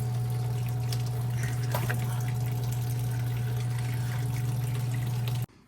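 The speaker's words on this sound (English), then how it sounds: "So now that we're done draining the fuel, last little bit's coming out here." Diesel fuel draining from the filter housing of a Ford 6.7L Powerstroke, a steady trickling pour under a constant low engine-bay hum, running evenly and then cutting off abruptly at the end.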